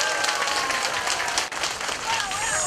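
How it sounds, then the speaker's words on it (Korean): Crowd applause at an outdoor trot concert, a loud continuous wash of clapping with cheering and a voice riding over it throughout. "여러분 다시 한번 박수 한번 보내주십시오"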